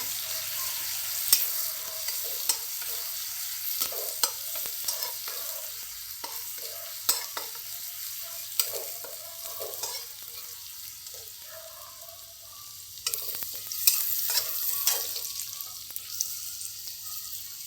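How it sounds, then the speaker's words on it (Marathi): Green chili paste frying in hot oil for a Marathi amaranth leaf (mathachi bhaji) dish, a steady close sizzle with a few sharper scraping stirs of the spoon scattered throughout, no talking. "हिरव्या मिरची जी पेस्ट केली होती ना ती आता यामध्ये टाकली हिला चांगलं तळून घ्यायचं"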